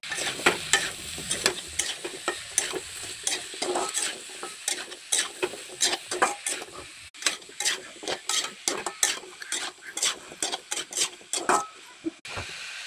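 Snails (gugli) and potatoes fry with spices in a pan in a village kitchen. A steady hiss runs under constant rhythmic stirring and scraping, with quick close strokes repeating throughout.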